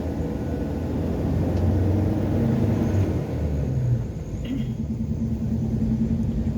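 A car engine labouring in first gear up a steep mountain road to Puncak Pantan Terong in Takengon, Central Aceh, giving a loud, steady low drone and rumble that dips briefly midway.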